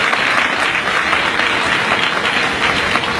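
Loud, dense applause from a large audience at a convocation ceremony, honoring NCC cadets; continuous vigorous clapping filling the whole stretch without pause.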